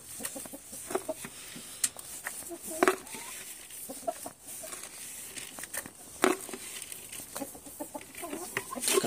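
Pet chickens cluck in short, irregular bursts at close range while being fed, with occasional crinkling and soft rustling between the calls and no talk over them.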